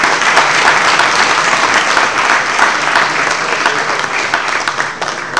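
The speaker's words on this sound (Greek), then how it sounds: "ένα χειροκρότημα για τον Δημήτρη Ασάπη" Loud, close applause from a conference audience for Dimitris Asapis, a thick, unbroken roar of clapping that stays strong throughout before easing slightly at the end.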